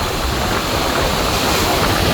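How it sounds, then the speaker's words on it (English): Big ocean waves break over sandbars in a steady, loud roar of surf, a continuous broadband wash of churning water with no clear pauses between breakers. "right out there is some massive waves going on"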